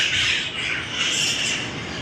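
A bird squawks loudly and continuously close by for a couple of seconds, with a harsh, raspy tone and no talking over it.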